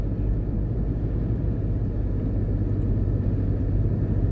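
A car cruising along the Palisadoes Strip road near Kingston, Jamaica, a steady low rumble of engine and tyres with constant wind roar, heard from inside the vehicle with nobody talking.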